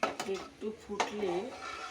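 A utensil clinks twice against a pot while chicken khichdi is stirred, short close metallic knocks under a person talking.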